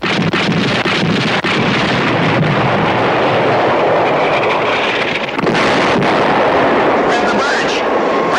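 Artillery fire in a wartime TV drama: a continuous, dense roar of heavy guns and rumbling blasts with wind-like noise, loud throughout, and a brief dip before the barrage surges again.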